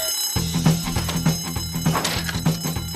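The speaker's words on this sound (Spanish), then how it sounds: "¡La alarma me asustó!" An alarm rings in a Spanish-dubbed animated comedy scene, a loud, regularly pulsing ring repeating about every half second over a busy mix of sound effects.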